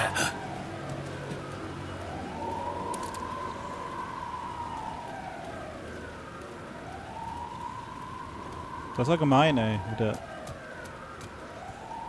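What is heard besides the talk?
police car siren in video game Alan Wake 2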